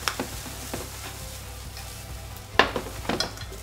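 Broccoli is stir-fried with garlic in a pan, a steady sizzle broken by clacks and scrapes of a utensil against the pan, loudest in a cluster near the end, with no voices.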